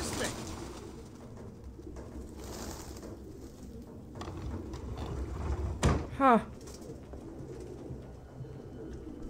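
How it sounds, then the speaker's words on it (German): Pigeons coo within the Detroit: Become Human video game, a soft repeated murmur under game ambience, with a sharp sweeping bird-like call near the end and a brief voice exclamation. "Lauter Vögel!"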